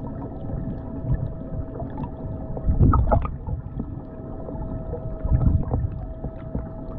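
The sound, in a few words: water sounds under boat with motor at full power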